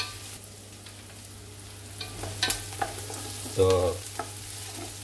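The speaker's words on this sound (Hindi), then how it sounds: "तो आप इसको कंटिन्यू इसको हिलाते रहें।" Vegetables for a Pakistani samosa filling fry in a pan, a steady sizzle broken by several scraping stirs of a spoon, loudest near the end, with a single brief spoken word.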